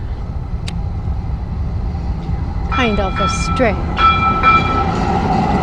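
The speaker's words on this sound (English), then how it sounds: "And I actually took this kind of train 30 years ago. This is called light rail." Light rail train passing at night during San Jose's first Friday, a steady rumbling roll with screeching wheel squeals and a short horn-like tone, while a person speaks briefly nearby.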